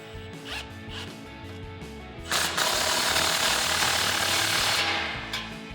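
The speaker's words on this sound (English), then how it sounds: "take a 16mm socket to tighten it down" A ratchet with a 16mm socket tightens an exhaust pipe clamp on a RAM 1500 dual exhaust, giving a quick rapid clicking burst that swells into a louder, sustained grinding whir up close.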